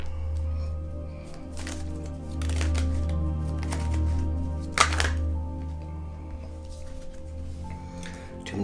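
Tarot cards are shuffled in quick bursts of crisp riffling and snapping, close and fairly quiet, over a low steady hum, with one sharper card slap partway through.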